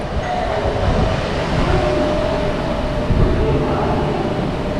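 Steady rumbling ambience inside a train station in Chiang Mai, Thailand, with trains running and a dense wash of mechanical noise, loud and continuous throughout.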